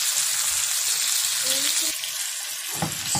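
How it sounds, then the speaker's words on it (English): Onion and seasoning sautéing in a pan make a steady, close sizzle and hiss, with a few soft bumps of stirring and a low murmur underneath. "I'm gonna let this saute for about 2 minutes"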